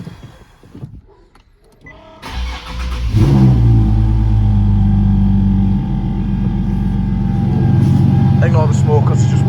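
A Nissan 370Z with a rear-mount turbo setup cranks briefly after a quiet pause, then fires up on its first start and settles into a loud, rough idle with rising revs, close by, with a voice briefly audible.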